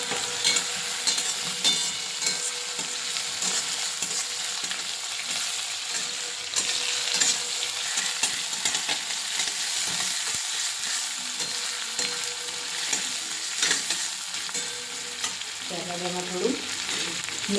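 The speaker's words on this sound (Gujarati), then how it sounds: "સહેજ ગોલ્ડન થાય ત્યાં સુધી એને થોડું હલાવીશું" Crumbled millet rotlo fries in a pan and is stirred, giving a continuous dense sizzle with scraping stir sounds throughout. It stays steady and close, with no talk.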